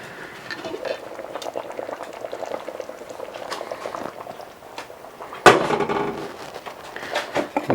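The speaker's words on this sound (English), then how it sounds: "stew's been going for about an hour." Green chile pork stew bubbling steadily in a pot, a continuous close simmer with a brief clatter near the end as the lid or spoon moves.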